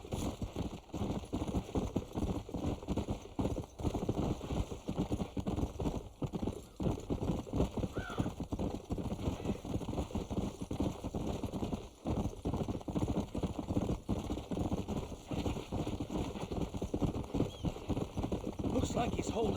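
Horse hooves clip-clop steadily and close in Red Dead Redemption on PC, a continuous rhythmic trot that runs the whole stretch beneath voices and game ambience.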